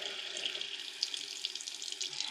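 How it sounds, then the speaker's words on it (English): A slow trickle of water runs steadily from a faucet into a sink while a Ridgid EZ Spin drain snake clears a slow drain, giving a close, continuous splashing hiss with no voices. "if it's a slow drain, I like to have a little trickle of water flowing"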